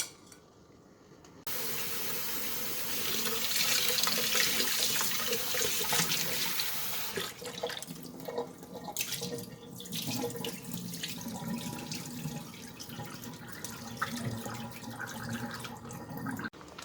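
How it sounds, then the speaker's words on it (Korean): Cold tap water runs at a kitchen sink as strained cooked rice for sikhye is rinsed, a steady rushing stream starting after a brief quiet moment and continuing with faint splashes and clinks. "이렇게 건져내셔서 얘를 찬물에 헹궈내거든요"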